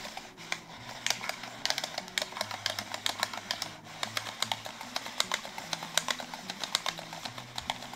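A Nintendo Labo cardboard Toy-Con gives off rapid, light clicks in quick irregular bursts, faint and close, like soft tapping on a keyboard.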